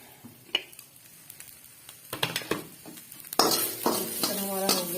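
Chicken frying in a pan, a sizzle that swells midway into a loud steady crackle, with stirring scrapes and light utensil clinks close by.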